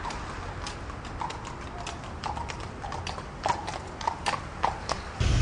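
Police horses walking on a hard street surface, hooves clip-clopping in an uneven, repeated pattern that grows a little louder and closer toward the end, over faint background noise.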